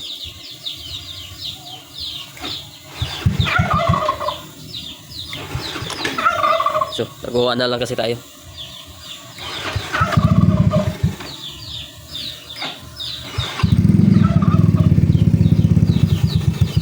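A Yamaha Mio i 125 scooter engine is cranked and sputters, revving in bursts before settling into a loud running rumble, with someone talking and birds gobbling nearby.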